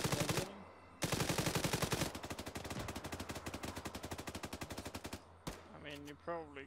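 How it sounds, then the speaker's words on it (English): Sustained automatic gunfire on a target in the video game Arma 3, long rapid rattling bursts with a brief break between them, loud and close, ending in a few scattered shots and clanking effects. "Putting fire on your target."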